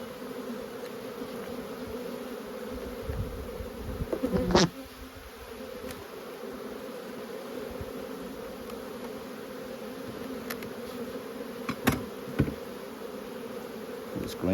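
Honeybees buzz steadily around an open hive at Lowanna during a brood inspection, a continuous near drone with a few individual bees zipping close past and faint handling knocks.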